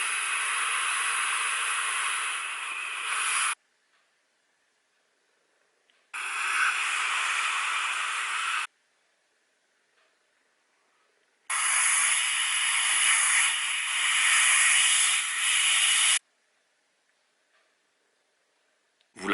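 Three long exhalations of vapour from a Geekvape Athena squonk kit, each a steady breathy hiss lasting a few seconds, separated by near silence.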